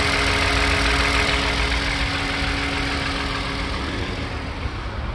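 Engine of a 2014 Toyota Highlander police pursuit vehicle idles steadily, heard up close as a continuous broadband hum with no talking, reportedly running smooth despite a noted cylinder misfire code.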